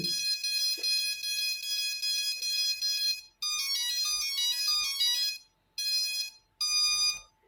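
Electronic speed controllers on a homemade STM32 F405 drone flight controller play calibration beeps: bright melodic tone sequences, loud and close, broken by short pauses, with no talking.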